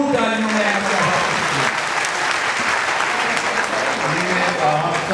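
Steady, loud audience applause fills a hall at a World Teachers Day children's expo in Karachi, continuous dense clapping with a faint voice or crowd murmur mixed underneath throughout.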